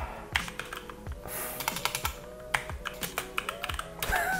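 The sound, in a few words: typing on computer keyboard during typing test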